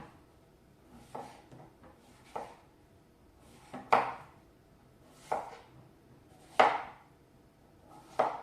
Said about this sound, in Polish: Ogórki kroimy na pół, jeżeli są małe, a jeżeli są trochę większe, to na cztery.